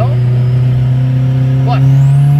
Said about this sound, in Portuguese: Essa picadinha de segunda marcha aqui então